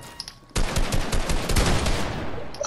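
Gunfire in Fortnite starting abruptly after a quiet moment, a tight burst of loud rapid shots that fades into a decaying tail within about two seconds.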